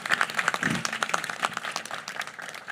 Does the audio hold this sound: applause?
yes